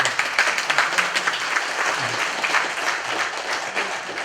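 Delegates at a regular delegates' convention clap together to approve a 2014 business plan and budget, a sustained, even round of applause from a roomful of people with no talking over it.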